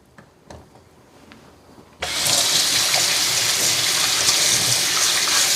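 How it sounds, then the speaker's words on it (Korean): Tap water runs steadily over raw beef short ribs in a kitchen sink, starting abruptly after a quiet moment and continuing loud and close without pause. "요걸 한 번만 흐르는 물에서 깨끗이 씻어 주세요"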